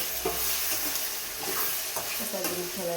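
Tomatoes frying in a pan, sizzling steadily with a few soft scraping stirs of a spoon, close and moderately loud, with faint background sounds and no clear talk.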